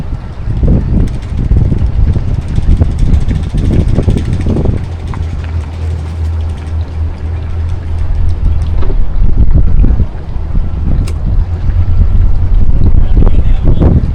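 A Sea Ray 270 with a single outboard idles toward its trailer, shifting in and out of gear, making a steady low rumble close by, mixed with heavy wind buffeting.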